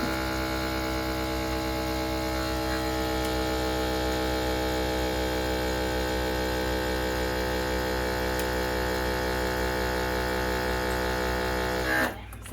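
A vacuum sealer runs steadily on a bag of turkey sausage, giving a constant electric motor hum with buzzing harmonics that holds unchanged for about twelve seconds before cutting off abruptly.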